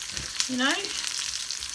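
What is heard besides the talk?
onions sautéing in a pan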